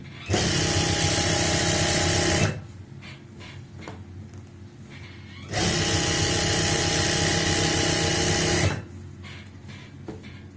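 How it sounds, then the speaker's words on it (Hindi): Sewing machine stitching around an elastic waistband on palazzo trousers, two loud steady whirring runs of about two and three seconds separated by a quiet pause with light handling noises, close by with no talk. "तो ऐसे ही हम पूरे राउंड में सिलाई लगा लेंगे"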